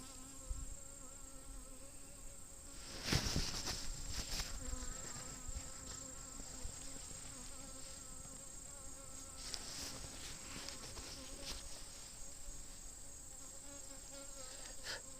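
Honeybees drone steadily around an opened hive during a queen check, a dense close buzz running throughout, with a louder burst of wings passing near just after the start.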